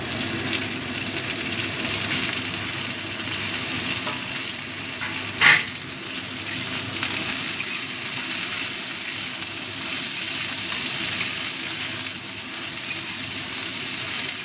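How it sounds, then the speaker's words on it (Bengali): Eggplant mash with green onion leaves is stirred in a hot pan. A steady, close frying sizzle runs throughout, with soft stirring scrapes and one brief louder clack midway, and no voices. "ভালো করে মিশিয়ে নিচ্ছি"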